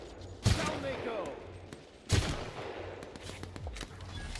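Gunfire in The Outer Worlds: two sharp shots about 1.7 seconds apart over a busy game background of low rumble and scattered clatter.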